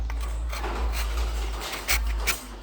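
Steady rasping scrape of a tool cutting through a hard plaster cast, close and loud, with a few sharper knocks and no talking.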